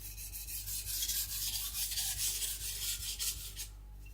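A Shibata Kotetsu gyuto knife is drawn across a coarse Shapton Pro 220 whetstone to blend the bevel, giving a steady run of close, gritty rasping strokes in an even rhythm that ends abruptly.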